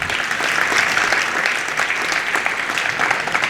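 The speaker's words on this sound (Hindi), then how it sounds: "इस पर लोगों ने थोड़ा सा कम तालियां बजाई हैं।" A crowd gathered for a Jain monk's sermon in Kharadi, Pune claps steadily, a dense, even round of applause that holds at a constant level throughout.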